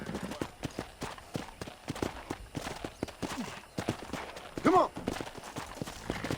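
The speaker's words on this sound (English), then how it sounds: "let's see if you can still ride a horse" Horse hooves clop in a quick, steady rhythm while riding in the video game Red Dead Redemption, fairly close but moderate in level, with a voice shouting briefly partway through.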